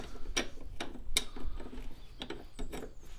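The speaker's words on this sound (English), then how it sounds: "So I used a 21mm spanner on the bottom," A 21mm spanner clicks on a rear axle bush bolt of a 2007 Renault Laguna, a series of quiet, evenly spaced ratcheting ticks close by with no talk.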